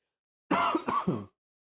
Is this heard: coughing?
yes